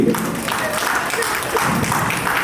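A short burst of clapping from a small group at a school reunion, close and lively, with voices mixed in under the applause.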